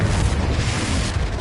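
An Expulso exploding spell in Hogwarts Legacy erupts as a brief, dense, booming blast that fills the moment with a loud, sustained roar.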